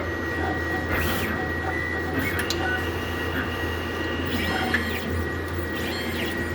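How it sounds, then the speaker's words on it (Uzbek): A laboratory analyzer's mixer churns samples for hepatitis B, C and ferritin testing, a steady mechanical whir with periodic motor sweeps and faint clicks over a constant machine hum, close by. "Endi bu yerda mishalkada aralashtiryapti."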